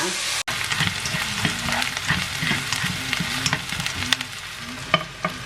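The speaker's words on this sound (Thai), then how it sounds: "เนื้อบดผัดไปให้หอมจ้า" Ground beef stir-fries in a pan for a bolognese-style meat sauce, with a dense, continuous sizzle broken by frequent scraping and stirring knocks close by.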